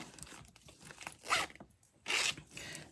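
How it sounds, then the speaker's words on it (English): A purse zipper is opened and closed, giving two loud, raspy zips in quick succession amid faint handling noise. "And the purse itself has a zip closure."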